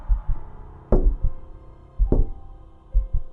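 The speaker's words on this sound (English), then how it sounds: "someone was knocking on the door." Knocking on a door in a quiet indoor setting, three close, loud groups of knocks spaced about a second apart, each a couple of sharp thuds with a brief ringing tail, and no talking.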